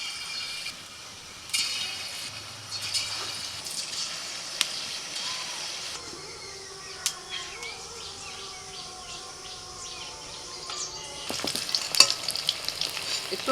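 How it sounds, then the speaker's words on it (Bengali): Pieces of paneer fry in hot white oil in a wok. There is a light, crackling sizzle with occasional stirring clinks. It is fairly quiet and close, with no talk. "এবার একটা একটা করে পনির ছেড়ে দিচ্ছি তেলের মধ্যে।"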